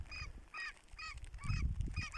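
Seagulls call in a repeated series of sharp, honking cries, about five in quick succession, over low rumbling wind on a cold, rainy day.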